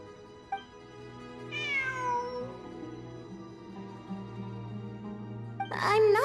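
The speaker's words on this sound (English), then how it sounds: "It really is a cat." A cat meows twice, a longer wavering cry followed later by a sharper, louder one, both heard over a steady low humming drone.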